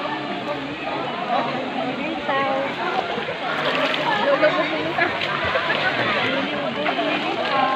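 Paglitaw Falls pours with a steady, loud broadband rush of falling and splashing water, people talking and calling out over the constant roar nearby.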